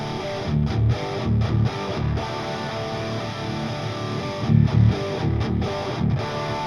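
Distorted guitars with boosted low-mids giving a boxy, thick tone, played as heavy rock or metal chords in short rhythmic bursts with sustained distorted sections between.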